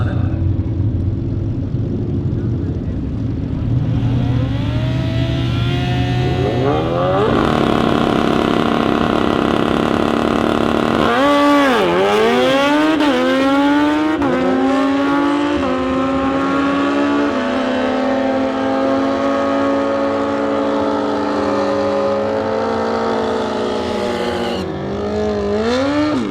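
Kawasaki and BMW drag racing motorcycles at a heads-up drag race at Toronto Motorsports Park, engines loud and close, idling roughly then revving hard in rising and falling sweeps throughout.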